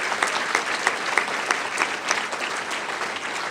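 An audience applauds a school principal at a Chicago Public Schools event, a short burst of steady clapping from a moderate crowd, close and uninterrupted.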